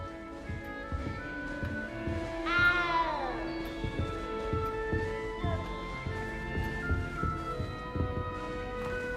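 A cat meows once inside the Hogwarts Legacy castle in the video game, a clear falling cry heard over a steady musical and ambient game backdrop.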